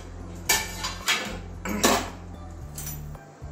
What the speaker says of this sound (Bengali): আবারও ঢাকনা খুলে দিচ্ছি